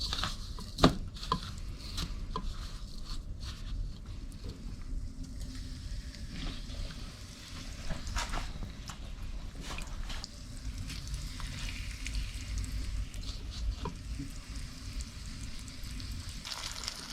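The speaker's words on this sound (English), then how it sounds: "We can hear it sizzle just a little bit in there." Bluegill fillets pan frying in hot oil, a steady soft crackling sizzle with scattered pops and light scraping throughout, close and fairly quiet with no speech.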